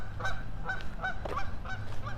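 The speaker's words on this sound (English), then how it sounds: "random geese" Geese honking outdoors on a city walk in Regina, repeated short nasal honks from several birds in an irregular rhythm, moderately distant over faint background noise.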